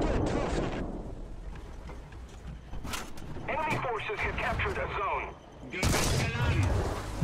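Tank guns fire in a tank combat video game, sharp booming shots standing out from game noise, with a person talking over much of it.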